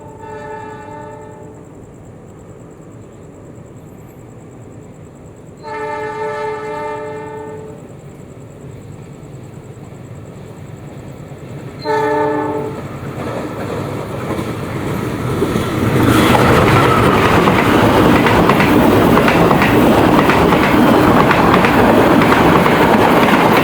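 Three long train horn blasts sound, then a loud roaring rush of a passing local train on an Indonesian railway builds and continues steadily.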